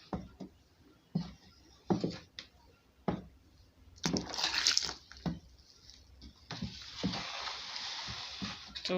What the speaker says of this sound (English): If it is too thick, you add additional water.